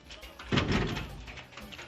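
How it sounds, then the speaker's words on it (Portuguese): An indoor door is pushed shut during a family São João bonfire gathering at a parents' house, giving one dull thud with a short rumbling close-up impact, then quieter room sound. "Vou fechar aqui a porta."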